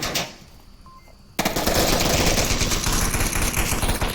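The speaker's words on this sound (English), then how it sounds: "Matthew and Toxic coming around firing." Gunfire rattles in the VR shooter Onward: after a quiet stretch with faint background hum, a sustained burst of rapid automatic fire erupts loud and close and keeps going continuously.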